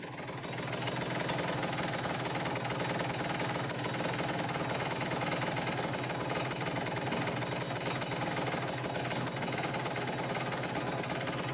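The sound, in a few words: engine idling while adjusting carburetor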